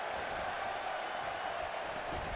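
Steady, constant crowd roar and cheering from a WWE 2K wrestling video game arena, a dense wash of noise held at even loudness throughout with no talk over it.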